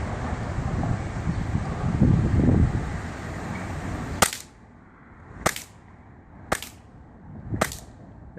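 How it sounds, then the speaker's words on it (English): Umarex Walther PPQ gas blowback airsoft pistol fired downrange outdoors: four sharp, loud cracks spaced about a second apart after a stretch of wind noise, with no talk. "putting some shots down range with the Walther PPQ"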